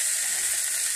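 Onions sautéing with rock salt for a potato masala: a steady, close, high hiss of sizzling oil with no breaks.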